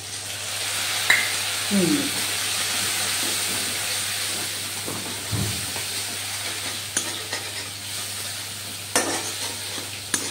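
Turmeric and chilli powder spices frying and being stirred in a pan, a steady close sizzle and hiss with occasional scraping stirs, no talking over it.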